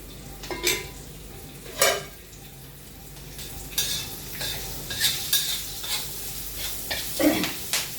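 Puffed sorghum bhadang snack being stirred in hot oil in a pan, with soft scraping strokes and a light sizzle coming in short bursts, close by.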